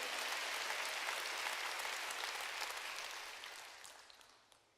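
A church congregation clapping hands during a sermon, a broad wash of many hands clapping together, moderately loud at first and gradually tapering off toward the end.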